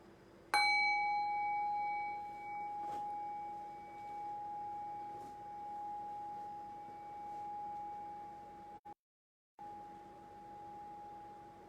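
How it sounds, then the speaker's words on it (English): A meditation bell is struck once and its clear, steady ring sustains and slowly decays for several seconds into quiet, with no voices. "Rest your thinking mind on the decay of the bell."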